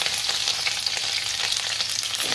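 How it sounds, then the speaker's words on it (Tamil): Ginger, green chili and garlic sizzle steadily in hot oil, a bright crackling fry with occasional stirring, close and continuous, no voices. "இது மூணையும் போட்டு நல்லா கொஞ்சம் வதக்கும்."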